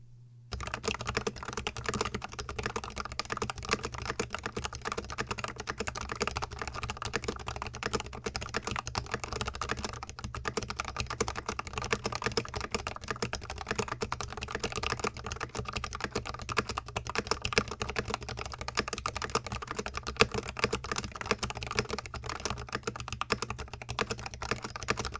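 Continuous typing on a Vissles V84 V2 mechanical keyboard, a dense, even stream of close key clicks and clacks running without pause for the whole stretch, alone with no talk.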